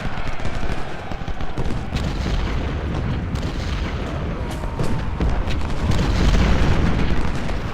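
Dense, continuous gunfire and booming artillery from a Civil War battle in a strategy video game, a loud unbroken rumble of musket volleys and cannon blasts with no talk.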